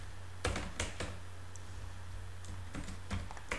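Computer keyboard being typed on while writing PHP code for a point-of-sale system, heard as scattered quiet clicks and short bursts of keystrokes over a steady low hum.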